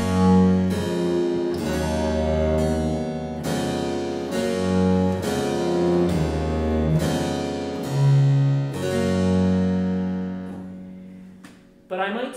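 A keyboard plays figured-bass chords over a baroque bass line, a harpsichord-like instrument striking a steady series of plucked chords, each ringing then decaying, clear and close with no talking.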